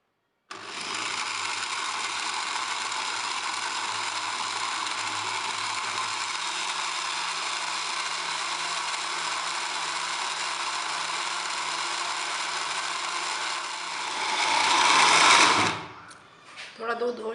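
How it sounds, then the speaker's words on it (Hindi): An electric blender whirs steadily for about fourteen seconds, blending thandai with a little milk, then the motor revs up briefly and winds down to a stop with a few clunks at the end. "इसको अच्छी तरह ब्लेंड कर लेंगे।"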